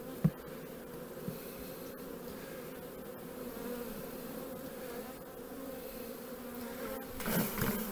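Honeybees from a small, weak nucleus colony buzz as they are shaken into a bucket, a steady low insect hum throughout with a few sharp knocks and a louder swell near the end.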